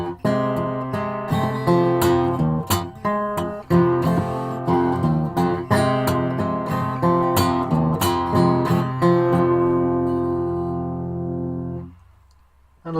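Acoustic blues guitar plays a riff, with sharp plucked notes and strummed chords in a driving repeated pattern, close and clear, then ringing out into near silence before a final attack.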